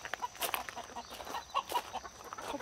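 Chickens clucking at a small farm hut, several short, close squawks and clucks popping up in quick irregular bursts over a quiet background.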